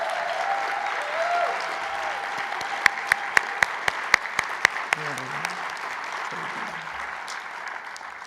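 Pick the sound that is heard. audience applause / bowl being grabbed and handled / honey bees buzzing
audience applause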